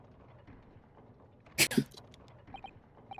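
A single sharp sneeze in two quick bursts, close and loud against a quiet background during an online game session, followed by faint small clicks.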